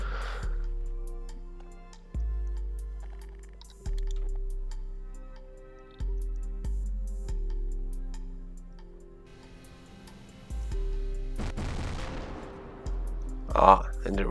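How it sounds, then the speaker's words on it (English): A tank in Garry's Mod firing a shot, amid periodic low mechanical thumps and a steady engine drone, with a sharp bright crack of the shot late in the sequence. "And we fire away a shot."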